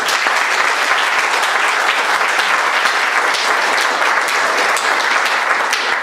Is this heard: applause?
yes